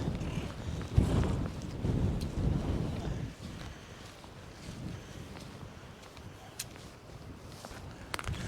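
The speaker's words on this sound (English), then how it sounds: "Oh, it's windy." Gusty wind on a beach buffets the microphone in heavy rumbling bursts early on, easing to a softer steady blowing with occasional faint knocks.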